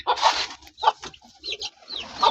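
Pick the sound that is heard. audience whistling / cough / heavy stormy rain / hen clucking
hen clucking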